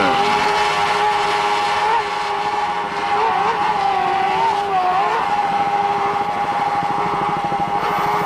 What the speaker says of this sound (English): Let's listen to those Johnson GT 300 horsepower outboards.